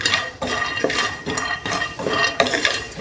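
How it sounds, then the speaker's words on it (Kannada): Almonds roasting in a pan, with a utensil stirring and scraping them in a steady back-and-forth rhythm. The scrapes are repeated and close up, with a light metallic clink and faint sizzle, and no talking. "ಅದೇ ಪ್ಯಾನ್ಗೆ ಒಂದು ಸ್ವಲ್ಪ ನಾನು ಬಾದಾಮನ್ನ ಹಾಕ್ಕೊಂಡು ಅದನ್ನು ಕೂಡ ಹುರ್ಕೊಳ್ತಾ ಇದ್ದೀನಿ"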